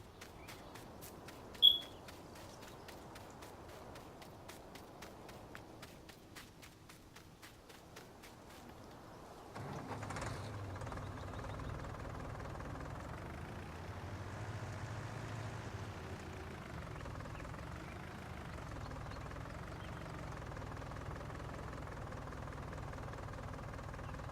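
A tractor engine in Farming Simulator 19 runs with a steady low rumble that starts up partway through and drones on evenly, with a sharp click early on and no talking.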